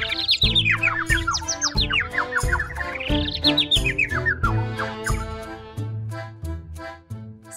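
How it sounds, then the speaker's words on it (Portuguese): Yellow canaries chirp and trill repeatedly, bright rising and falling tweets close and clear, set over a steady rhythmic musical backing with no talk. "6 canários amarelos."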